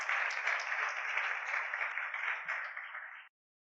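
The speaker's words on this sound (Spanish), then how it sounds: "Aplaude al Rey de la Gloria." Congregation applauding during a church sermon, a dense sustained clatter of many hands that fills the clip for about three seconds and then stops abruptly.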